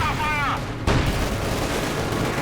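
IS-2 tank cannon fire in the World War II strategy game Company of Heroes 2: a sharp, heavy boom cuts in midway with a rumbling tail, following a brief whistling sound and layered over ongoing battle noise.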